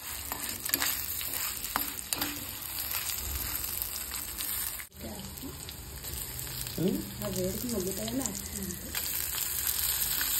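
Spices crackle and sizzle as mustard seeds, cumin, dried and green chillies, turmeric and asafoetida fry in hot oil for a tempering, a steady close frying hiss with a brief stirring pause midway.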